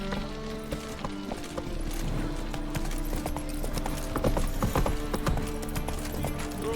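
Roach, a horse in The Witcher 3, gallops steadily with rhythmic clip-clop hoofbeats over a continuous ambient bed, fairly close and moderately loud, with no talking.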